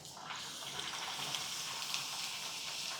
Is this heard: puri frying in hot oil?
yes